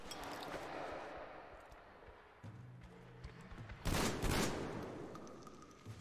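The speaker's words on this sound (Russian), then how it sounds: "Я в него выстрелил" Gunfire sounds from the video game Metro Exodus. A short, loud burst of shots cuts sharply through a quieter rumbling ambience about two-thirds of the way in, then the low background returns.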